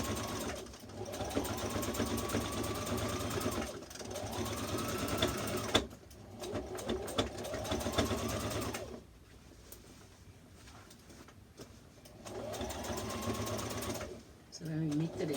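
Sewing machine stitching a red zip-front jumpsuit, running in several bursts separated by pauses, close and clear with faint background sounds.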